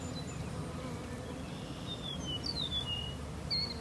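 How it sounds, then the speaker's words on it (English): Honeybees in a bee yard fly in and out of their hives, producing a constant close droning buzz, with faint bird chirps rising above it now and then. "those have quite a bit of bee traffic coming in and out"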